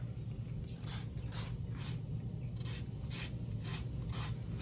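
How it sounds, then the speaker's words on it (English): Lemon zest being rasped on a grater for pasta carbonara, a steady rhythm of about eight quick scraping strokes over a low background hum. "I'm just going to do the zest of a lemon."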